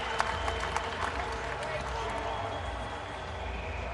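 A crowd at a cricket match, England versus Sri Lanka in a 2007 World Cup game at North Sound, applauds a driven shot, with steady clapping and cheering spread across the ground under a commentator's voice.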